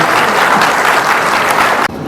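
An audience at a public event held by a deputy chief minister applauds, a dense, steady wash of clapping that is loud and continuous before stopping abruptly.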